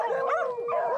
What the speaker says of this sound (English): beagles are notorious for their barking, but Dave has a solution